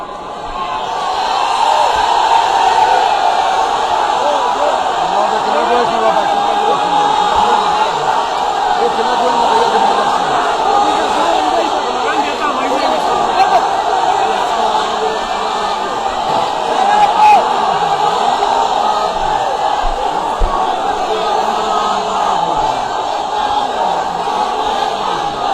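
Large audience at a religious lecture chanting slogans together, a loud sustained crowd roar of voices rising and falling throughout.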